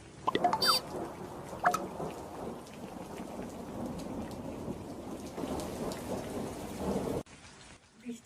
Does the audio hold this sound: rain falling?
yes